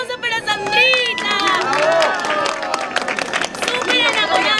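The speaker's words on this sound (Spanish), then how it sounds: "¡Un aplauso para Sandrita!" Airport crowd clapping and cheering for a woman named Sandrita, a dense burst of hands and excited voices with people talking and shouting over the applause throughout.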